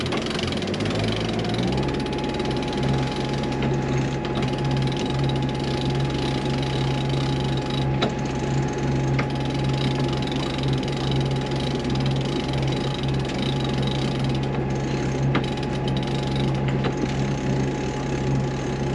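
Ratchet winch cranked to swing a stranded sailboat's bow around, steady mechanical clicking under a loud, constant engine drone and rumble from nearby machinery.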